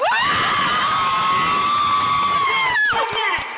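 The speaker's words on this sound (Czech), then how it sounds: "teď chci slyšet obrovský potlesk, protože přichází Bára Tlučhozová" A crowd of children and parents cheers and screams loudly at an outdoor festival event as the host Bára Tlučhořová comes on. The shrill, sustained roar lasts about three seconds, then cuts off abruptly.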